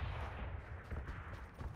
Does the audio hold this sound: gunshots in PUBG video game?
yes